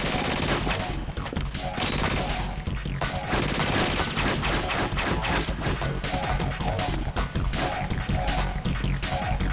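Relentless automatic gunfire from the PS2 game Metal Gear Solid 2: Sons of Liberty, rapid bursts and shots layered into a loud, continuous barrage with booming impacts that fills the whole stretch.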